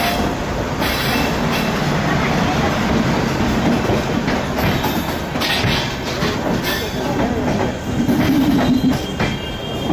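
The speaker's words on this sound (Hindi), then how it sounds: "देखते हैं कौन सी ट्रेन है ये। हावड़ा गांधीधाम।" A Howrah–Gandhidham express train hauled by a WAP7 electric locomotive passes close by, its wagons rumbling loudly and steadily with rhythmic clickety-clack and a brief wheel squeal, and no voices.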